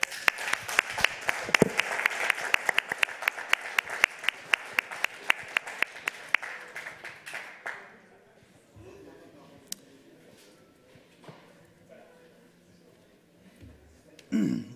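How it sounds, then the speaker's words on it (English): Audience at a hacker conference lightning talk session applauding loudly and crisply for about eight seconds before the clapping fades out into quiet room noise and a few stray sounds. "round of applause"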